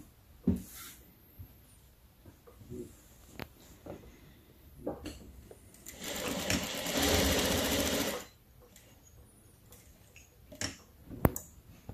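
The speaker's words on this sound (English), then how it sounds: "And then I'm gonna sew around it with the elastic in each side." Sewing machine stitching a fabric face mask with elastic on each side: a steady two-second burst of rapid mechanical whirring, loud and close, surrounded by quiet handling clicks and fabric rustles.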